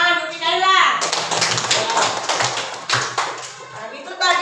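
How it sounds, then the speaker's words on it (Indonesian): Schoolchildren in a classroom lesson clap for a classmate, a burst of close, busy hand claps lasting a few seconds, with a voice heard at the start and end. "Ya, tepuk tangan untuk Mikaela."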